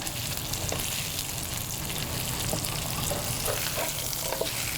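A steak sizzles in a hot pan, giving a dense, even hiss that stays steady throughout. A few faint clinks are audible underneath. No one speaks.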